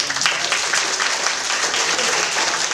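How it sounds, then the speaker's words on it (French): Audience applause for a young magician after his magic trick, dense steady clapping from a crowd sustained throughout. "On l'applaudit très fort."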